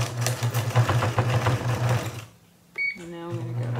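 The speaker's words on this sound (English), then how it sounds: "Now I'm going to backstitch." A sewing machine runs in quick rhythmic stitching bursts while backstitching feed sack fabric for a shopping bag, then stops briefly before a short whirring restart, with someone talking over it.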